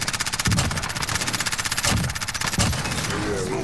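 Rapid automatic gunfire in a co-op shooter video game, loud and continuous bursts with brief gaps, with a voice talking over it.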